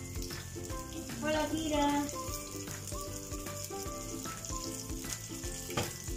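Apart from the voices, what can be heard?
dorado fish frying in a pan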